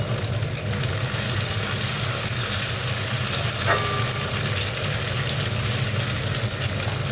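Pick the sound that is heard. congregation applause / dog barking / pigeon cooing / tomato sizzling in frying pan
tomato sizzling in frying pan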